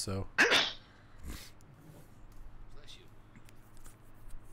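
A single sharp sneeze bursts out near the start, loud and close, followed by quiet room noise and a few soft shuffles, with a brief spoken word.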